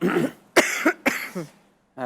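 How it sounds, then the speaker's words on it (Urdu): A woman coughs several times in a quiet room, with short, close, harsh bursts separated by brief pauses. "کھانسی مجھے شروع ہو گئی ہے"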